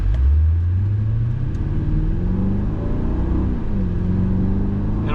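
A 2004 Mercedes-Benz E55 AMG accelerates in sport mode, its engine a loud, deep rumble heard from inside the quiet cabin, with the pitch rising steadily through a gear and then easing and rising again.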